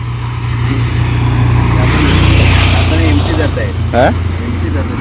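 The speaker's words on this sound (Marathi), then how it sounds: "अरे बऱ्याच रिक्षा जात आहेत" Auto rickshaws passing on a road toward Sangameshwar, a loud steady engine drone with a swelling pass-by near the middle, under nearby talk.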